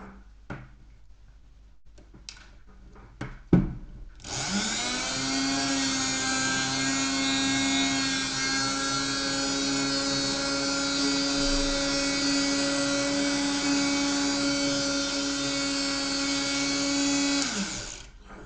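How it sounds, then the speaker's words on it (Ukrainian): A Kraissmann 175 SGW rotary engraver fitted with a diamond bit switches on after a few clicks and handling knocks, then runs with a steady high-pitched motor whine for about fourteen seconds before spinning down. "Це, пишуть, що це алмазний гравір. Включаємо."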